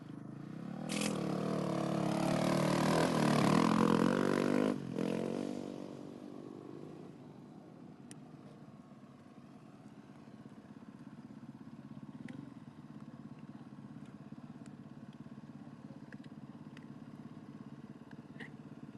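A KTM 450 rally motorcycle sits at the start line of the 2025 Abu Dhabi Desert Challenge prologue. Its engine roars loud and close for about five seconds, then settles into a steadier, quieter running rumble with faint clatter.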